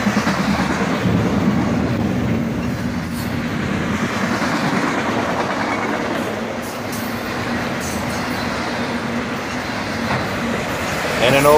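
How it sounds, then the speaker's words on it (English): A CSX autorack freight train cruises by with an old Conrail-painted autorack at the rear, wheels clattering and rumbling close and steady, the rolling noise easing slightly toward the end. "And an old Conrail painted autorack brings up the rear."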